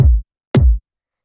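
Two louder drum and bass kick hits run through a drum bus with boosted transients, each a sharp, snappy attack over a deep thump, alone with silence between.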